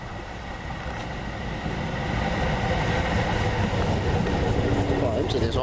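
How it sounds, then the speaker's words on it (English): A Tyne and Wear Metro train pulls in at a station near South Gosforth with a steady, loud rumble and rail noise that builds slightly over several seconds, then a faint squeal of brakes near the end. "here's a train coming"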